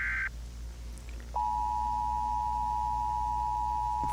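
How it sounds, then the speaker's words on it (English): Emergency alert tone from the video game S.O.A.R for a civil defense emergency action notification: a brief higher beep, then a long steady electronic tone that holds unbroken to the end, fairly quiet and alone. "S.O.A.R Agency and Civil Defense issue an emergency action notification."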